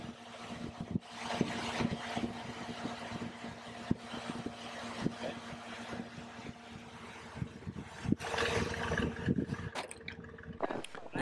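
A C3 Corvette's engine runs steadily while the car drives, with a continuous mid-level drone, road rumble and a few brief knocks and swells throughout.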